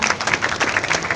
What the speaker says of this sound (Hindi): तो हम सब अपने लिए एक दफ़ा फिर तालियां बजाएं।